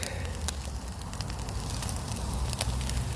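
A campfire in a small outdoor cooking area crackles and pops, with scattered sharp snaps over a steady rushing roar, close by.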